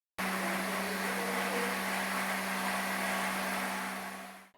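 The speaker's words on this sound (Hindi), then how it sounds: "और अब इन तमाम टमाटरों को ब्लेंडर जग में डालकर ब्लेंड करेंगे।" A blender whirs steadily on a jug of cooked tomatoes for a chilli garlic sauce, a loud continuous motor hum with a constant low tone running unbroken for several seconds before cutting off.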